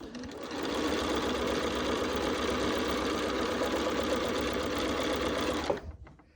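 A sewing machine stitches quilt block pieces for a Quilts of Valor block cut with AccuQuilt. It runs in one steady, close, continuous burst for about five seconds, then stops abruptly and leaves brief quiet.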